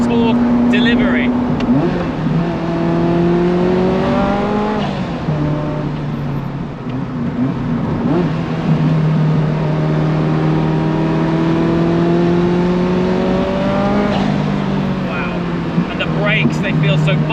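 Ferrari F40 with its turbocharged engine accelerating, a loud droning note that rises through the gears with a brief dip at each shift, heard close inside the car beneath someone talking.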